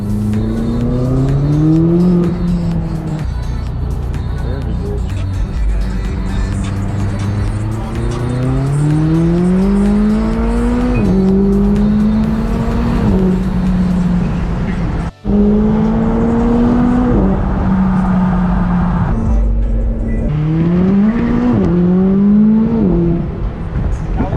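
A 2018 McLaren 570S Spider Launch Edition accelerates hard from inside the cabin, its engine note climbing through repeated rising sweeps broken by quick gear shifts and a brief cut, loud and close throughout.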